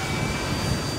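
Radio-controlled DRACO 2.0 m airplane's electric motor and propeller during a short takeoff, a loud, steady whirring drone with no breaks and no voices.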